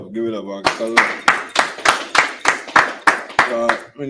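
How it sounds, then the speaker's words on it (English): A room of people claps for Augie at a scripture breakdown class in Chicago, a few loud, spaced bursts of clapping mixed with voices that talk between and over them. "Clap it up. Give it up, Augie."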